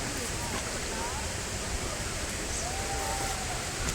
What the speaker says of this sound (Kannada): ಇಲ್ಲಿ ಹರಿವು ಇರುತ್ತೆ. ಎದುತ್ತು ಹಾಂ, ನೀರು ಹರಿತಾ ಇರುತ್ತೆ.